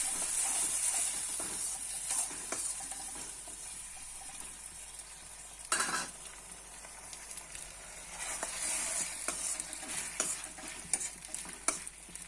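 Tomatoes are stirred and sautéed in a pan for a traditional South Indian garlic kuzhambu, with a steady sizzle and hiss broken by scraping stirs, close and moderately quiet, with no speech.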